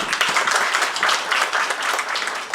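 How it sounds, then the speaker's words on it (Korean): A ceremony audience at the 35th National Intellectual and Developmental Disability Welfare Convention applauds the organising staff, giving a dense, steady patter of many hands clapping with no voices over it. "이번 행사를 주최해주신 한국지적발달장애복지협회 직원분들의 수고에도 다시 한번 박수 부탁드리겠습니다"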